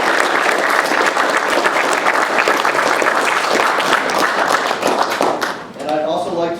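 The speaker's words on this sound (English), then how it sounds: "Let's get a round of applause for our special guest today." A room of attendees at an Eagle Scout Court of Honor gives a sustained round of clapping for special guests, dense and fairly close, fading near the end as a voice begins speaking.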